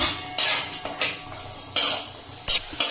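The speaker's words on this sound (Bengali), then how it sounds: "কাজু কিশমিশটাকে একটু নেড়ে নেব" A spoon scraping and knocking in a pan while cashews and raisins fry, five or six sharp close clacks at irregular intervals over a faint sizzle.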